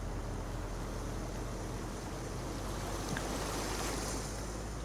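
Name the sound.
running water by bridge in Farming Simulator 19 video game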